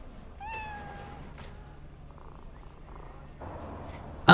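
A cat meows once with a clear rising-falling tone, then purrs softly over a low game ambience with faint background hum and a few clicks, set in the video game Cyberpunk 2077.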